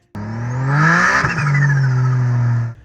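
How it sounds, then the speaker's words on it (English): A turbocharged car engine revs loudly, then the revs drop and a rapid fluttering turbo chatter, with no blow-off valve, rides over the engine note before it cuts off abruptly. "his car flutters like crazy"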